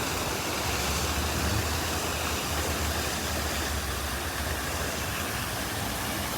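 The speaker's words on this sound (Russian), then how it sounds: "И опять фонтан." A fountain in central Grozny gives off a steady, full rush of falling water, even and unbroken throughout with a low rumble beneath, and no voices.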